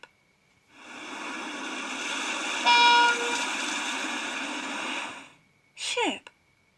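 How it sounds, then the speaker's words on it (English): A ship's horn gives one long, steady blast of about four and a half seconds, followed by a brief spoken voice. "Ship,"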